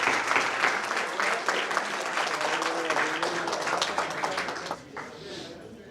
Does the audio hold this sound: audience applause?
yes